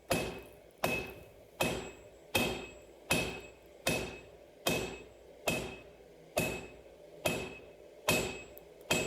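Hot knife steel is struck on a new 66-pound anvil at a forge, about a dozen sharp, ringing hammer blows evenly spaced under a second apart, close and loud with no voices.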